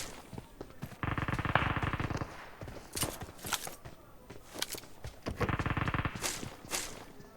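Gunfire in PUBG Mobile, with two sustained bursts of rapid automatic fire between scattered single shots and footstep-like thuds, all fairly close and clear and without talk.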